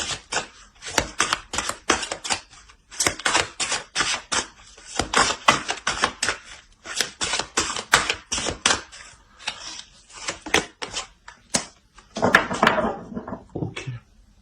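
Tarot cards are shuffled and laid out in a reading, giving close, rapid flicking and riffling with soft slaps of cards set down, in uneven bursts.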